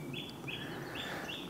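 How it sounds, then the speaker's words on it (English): A wren sings in woodland, its short bright trilling phrases repeating faintly in the background over a quiet outdoor hush. "Little wren in the background."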